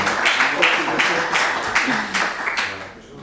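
An audience at a tech talk on designing shareable UI components breaks into brief, moderate applause, a dense patter of claps lasting a few seconds and fading at the end.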